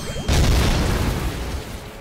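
An explosion blasts an enemy ship's gun apart in the space game Holy Potatoes! We're in Space?!, with a sudden loud boom that rumbles and then fades over about two seconds.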